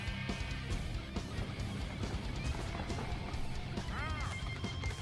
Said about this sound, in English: tree of life, it shatters in breaking particles